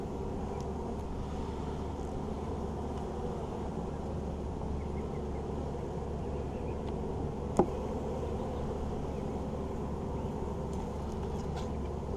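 Honey bees droning at an open hive during an April inspection, a steady low buzz throughout with one brief knock partway through.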